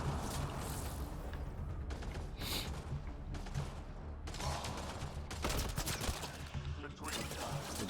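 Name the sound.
explosion and gunfire in the video game Mass Effect Andromeda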